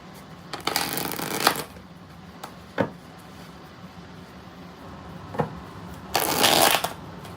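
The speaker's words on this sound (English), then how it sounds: "Let's use this deck. 5 shuffles." Cards being shuffled in several quick riffling bursts, separated by short pauses and a few light taps, close up with no talking.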